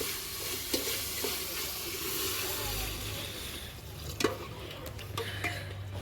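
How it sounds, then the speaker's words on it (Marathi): Water poured into a pot of mutton cooking over a wood-fired stove, a close liquid splash and stirring sizzle with a few clanks, under a faint background voice. "तर आता मम्मी याच्यात मीठ आणि पाणी टाकणार आहे।"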